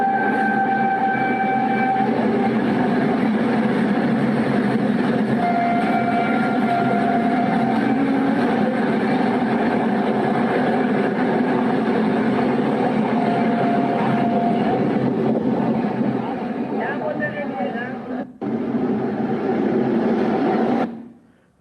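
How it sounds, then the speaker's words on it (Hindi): A train hauled by two engines runs along a green corridor rail line: a loud, steady rumbling roar with sustained horn tones near the start and midway, close and continuous until a brief drop near the end. "डबल इंजन के साथ भागती हुई ग्रीन कॉरिडोर की ये रेल"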